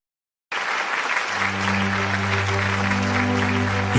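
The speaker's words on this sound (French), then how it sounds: "Nous continuons à acclamer." A church congregation bursts into loud, continuous applause after a moment of silence, the dense clapping soon joined by sustained keyboard chords underneath.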